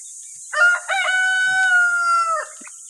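A rooster crows loudly and close by, one long drawn-out cock-a-doodle-doo with a brief clucking start, against a faint hiss.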